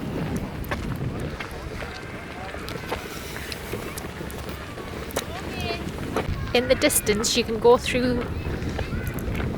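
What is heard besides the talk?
wind blowing in the countryside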